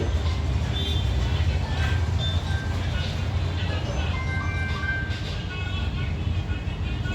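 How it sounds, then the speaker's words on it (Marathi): A phone call rings out as a repeating melodic ringtone that runs steadily over a dense, noisy background, with voices faintly mixed in. "रिंग वाजती."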